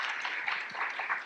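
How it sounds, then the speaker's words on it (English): Audience applause for guests at a talk, a steady wash of clapping at low level with no voices over it, held evenly for just over a second. "Please give a round of applause to Larry and Debbie."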